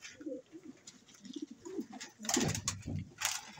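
Pigeons coo in low, soft rolling bursts, a few birds calling close by with some flapping or rustling noise mixed in.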